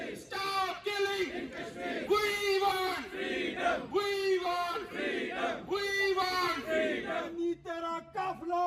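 A protest crowd outside the Indian consulate in Birmingham chants slogans in loud, rhythmic call-and-response bursts, many voices shouting together in repeated phrases with brief gaps between.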